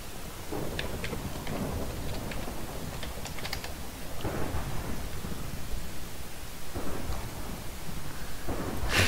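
A Minecraft thunderstorm plays quietly: a constant patter of rain with several low thunder rumbles rolling in at intervals and a sharper crack near the end, and no talk over it.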